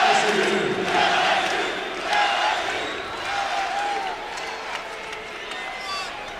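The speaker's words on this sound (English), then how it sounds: "Oh, this crowd, or at least the purple-clad crowd, is appreciative of the effort" Basketball arena crowd at a college game between UL Lafayette and LSU, a broad steady roar of applause and cheering that swells and eases, with a commentator talking over it.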